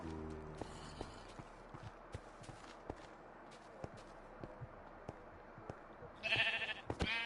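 A Minecraft sheep gives a short, fairly loud bleat near the end, after a stretch of faint, steady game clicks and soft footsteps.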